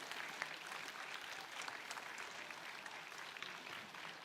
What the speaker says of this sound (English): please put your hands together for our new graduates